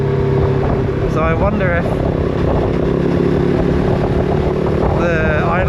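A Kove 450 Rally motorcycle engine idles with a rough, juddering hum, steady and close throughout, while someone talks over it.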